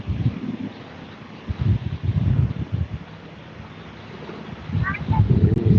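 Wind gusts buffet the microphone by a pond where a fountain sprays, a steady low rumble swelling and easing in waves, loud and close.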